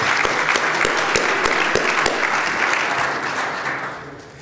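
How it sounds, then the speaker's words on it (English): An audience at an annual address event in Virginia Beach claps in a warm, dense round of applause with a few sharper individual claps, swelling briefly and then tapering off. "Let's give them a round of applause."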